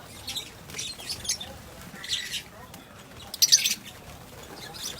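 Birds chirp at a bonsai nursery in short, bright bursts that come and go, some near and sharp, over a soft outdoor murmur.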